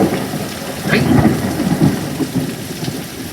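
A heavy thunderstorm with close lightning strikes and gusty winds: a loud, steady rain roar with deep thunder rumbles swelling around the middle.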